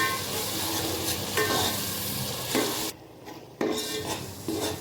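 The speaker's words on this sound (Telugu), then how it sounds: "టమాటా ప్యూరీ వేసుకొని ఒక ఐదు నిమిషాలు పచ్చివాసన అయ్యేంత వరకు ఉడకనియాలి" Tomato puree simmers in a pan with a steady sizzling hiss and a stirring scrape running through it, close and even. The sound dips briefly near the end and then comes back, with no talking over it.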